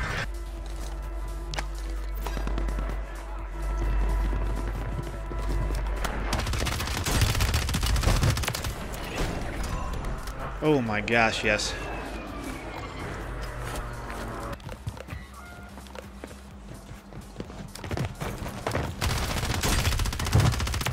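SMG gunfire in the video game Warzone, with repeated rapid bursts and scattered shots between stretches of movement and footsteps, and a man briefly exclaiming over the action.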